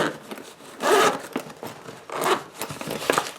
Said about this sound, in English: So it's just a small little nylon zip case.